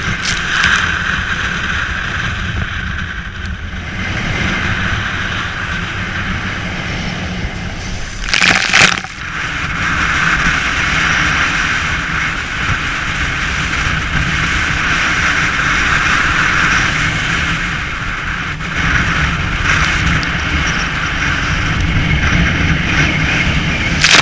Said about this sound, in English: we are now sailing in force 8 wind conditions